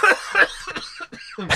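A person coughing several times in quick bursts close to the microphone, harsh and breathy, with a brief pause between fits.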